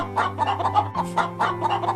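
Farm chickens clucking in a short rhythmic series of close, repeated clucks over a steady low hum.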